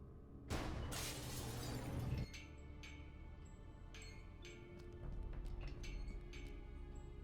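Glass shatters above a laboratory door in the video game Gibbous, a loud crash lasting under two seconds, then scattered tinkling shards and low rumbling settle afterward.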